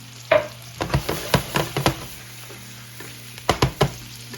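Garlic and onions frying in a pan over a low sizzle, broken by sharp clacks and scrapes of a utensil stirring and tapping, some in quick pairs.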